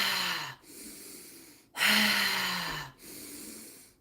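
Deep, forceful breaths in and out during a guided breathing exercise, three long strokes in a steady rhythm, close to the microphone with a hoarse rasp and no talking.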